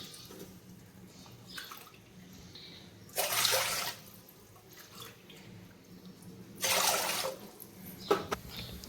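Water poured into a cooking pot, four cups for one cup of flour, heard as two separate pouring bursts, each about a second long, in a quiet kitchen with faint clinks between them.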